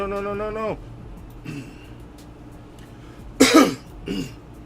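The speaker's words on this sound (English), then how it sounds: "Clear my throat." Someone clears their throat close to the microphone with one harsh, rasping burst and then a softer second rasp, following a brief hummed voice tone at the start.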